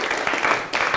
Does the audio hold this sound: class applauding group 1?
yes